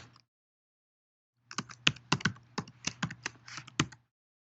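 Rapid bursts of keystrokes on a computer keyboard while a password is entered into a WordPress database setup form, a short tap, a pause, then a quick irregular run of about a dozen close, crisp clicks.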